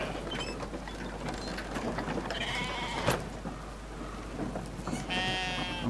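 A sheep in the video game Brothers: A Tale of Two Sons bleats in two drawn-out, wavering cries, one midway and one near the end, over soft mechanical clicking and ambient rumble.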